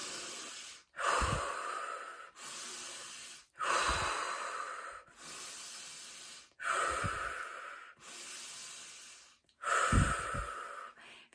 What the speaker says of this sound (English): Inhale. And exhale. Inhale. And exhale.